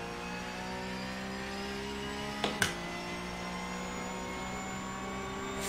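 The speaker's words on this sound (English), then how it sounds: "Full throttle all the way through here, up to 6th gear." A Porsche race car in a virtual Supercup racing game at Monza, engine held at full throttle with a steady high whining drone and harmonic tones, broken by a brief double click or bump midway.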